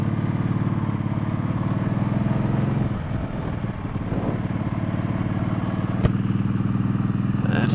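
A Can-Am Spyder three-wheeled motorcycle on a cone course, its engine droning loud and close with a pulsing tone that dips briefly as the gears shift, then climbs steadily as it picks up speed.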